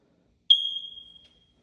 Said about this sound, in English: You do need new batteries in one of the smoke detectors